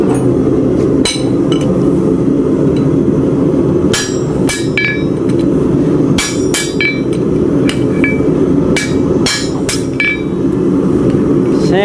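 Hammer blows on horseshoe nail holes at a forge, reworking the holes to square them; sharp metallic strikes land irregularly in small clusters over a steady loud background roar.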